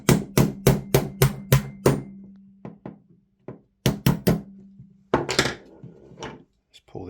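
Metal pin being tapped out of an Action Army AAP-01 airsoft trigger assembly, with sharp, close hammer knocks in quick bursts of several strikes separated by short pauses.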